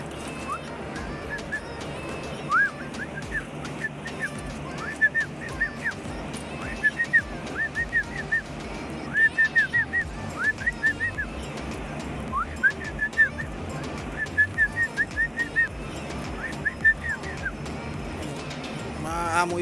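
Tame pigeons kept as pets call in short repeated bursts, a series of nearby cooing and whistling notes clustering in groups against a quiet background, with some faint voices around.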